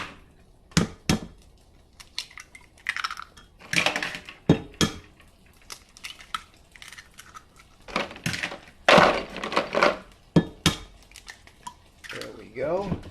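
Five eggs cracked one after another into a Pyrex glass dish, with sharp taps and wet drops scattered among pauses, close and fairly loud, while someone talks between the breaks.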